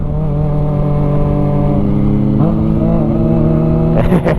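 A Kawasaki ZX25R motorcycle ridden at a relaxed pace through bends, its high-revving engine held close and loud at a steady whine, dipping briefly and then climbing again with a short burst of revs at the end.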